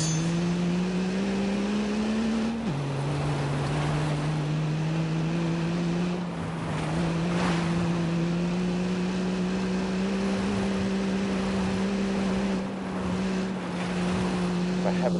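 A vehicle engine is started and left running, a steady loud drone with a small drop in pitch near the start, holding on throughout with wind-like noise around it.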